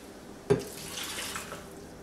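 Water poured into a blender jar for a homemade fruit smoothie with apple, starting with a sharp splash and settling into a steady, moderately quiet pour for about two seconds.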